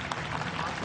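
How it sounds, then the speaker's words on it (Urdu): Audience in a television studio hall applauding, a soft, steady patter of clapping heard at a distance and fairly faint throughout. "ہال آپ کی بات پر تالی بھی بجا رہا ہے"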